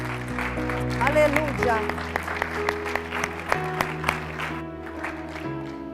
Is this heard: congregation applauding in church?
yes